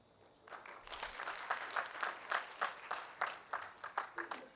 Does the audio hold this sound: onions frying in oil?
no